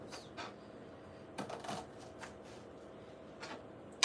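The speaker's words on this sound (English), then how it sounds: "let's cut an onion." A knife cutting an onion on a cutting board for an herby tomato salad, with several quick close chopping strokes and crisp crunches scattered irregularly over a quiet background.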